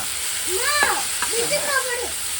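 Bombay chutney ingredients, salted, sauté lightly in a pan with a steady, faint hiss of frying running under a voice that talks briefly over it.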